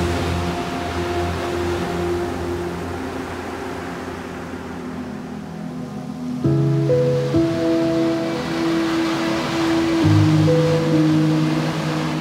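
Ocean water rushes steadily under the low, droning hum of a Honda Marine boat engine at sea off Sweden, continuous, with no voices.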